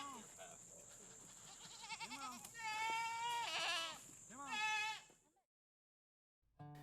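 Several goats raised for grazing kudzu bleat repeatedly in wavering, overlapping cries, fairly close, with a voice mixed in before the sound cuts to silence.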